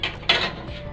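A utensil scrapes and knocks against a pan while onion and garlic are stirred, two quick clinks over a soft sizzle, close and short.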